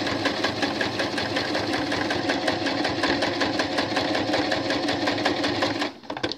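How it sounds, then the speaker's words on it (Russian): A sewing machine stitches steadily with two threads together, its rapid, even mechanical clatter running close and continuous before stopping abruptly near the end. "и начинаем шить."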